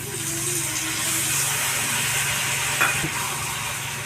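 Paste of cumin, ginger and green chili frying in a pan with turmeric and Kashmiri chili, a steady close sizzle with a low hum beneath and a brief clink partway through.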